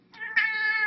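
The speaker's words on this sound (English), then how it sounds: "This is really another really nice cat." Cat giving a single drawn-out, rising meow, close and clear, with a brief softer lead-in and no voices.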